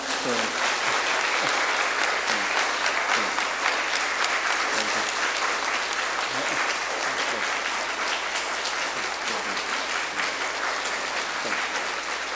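A church congregation at a Sunday service claps together in warm, sustained applause that fills the room steadily with dense, even clapping, and a voice is faintly audible beneath it.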